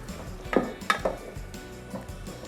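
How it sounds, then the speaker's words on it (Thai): Red curry paste cooks with coconut milk in a pan over low heat for a roast duck curry, with a utensil clinking and scraping against the pan in a few sharp strokes over a low background. "ผัดไปเรื่อยๆ นะคะ หมั่นคนเดี๋ยวน้ำพริกแกงเราจะไหม้ได้นะคะ"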